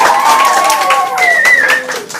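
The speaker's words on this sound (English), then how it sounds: "Round of applause!" A show's audience breaks into loud applause and cheering. Dense clapping mixes with rising and falling whoops and shouts from the crowd, close and energetic throughout.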